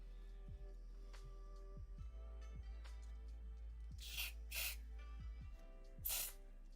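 Contact cleaner is sprayed onto a Mentor tape machine in short bursts from an aerosol can, with two close hisses near the middle and another brief one toward the end, over a steady mains hum and faint clicks.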